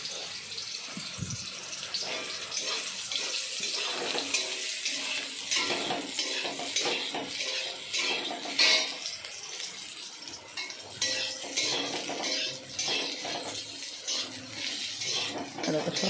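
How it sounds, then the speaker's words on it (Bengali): Soybean chunks fry in a pan until lightly browned, giving a steady busy sizzle with stirring and watery clatter throughout, fairly close. "সোয়াবিনটা আমার লাল লাল করে ভাজা হয়ে গেছে"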